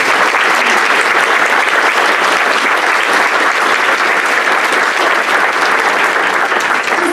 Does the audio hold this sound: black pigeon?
no